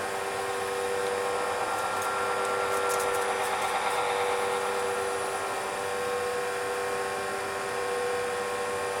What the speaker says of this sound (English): Sort of let the micro mesh do the work, and just hold it up against it.